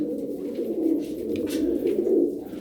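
Tumbler pigeons cooing close by, a soft continuous throaty burble of overlapping low coos.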